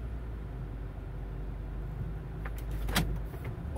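A Toyota engine idles unevenly, with RPM surging on its own and no throttle input; a steady low hum carries a brief louder rise near the end, with no talk.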